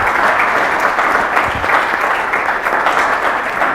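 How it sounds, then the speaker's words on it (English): A symposium audience in Cambridge gives panelists sustained applause, with dense, even clapping from many hands that stays loud through the whole stretch. "I would ask you to give them one more round of applause"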